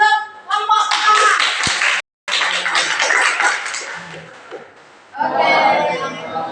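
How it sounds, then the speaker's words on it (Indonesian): An audience claps for the first group in a classroom session, a loud sustained round of applause close by that breaks off briefly, then resumes and carries on to the end. "yuk aplaus untuk kelompok pertama"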